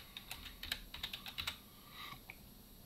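Quick bursts of keystrokes on a computer keyboard while a message is typed, a run of closely spaced clicks in the first second and a half, then a few softer taps before a quiet pause.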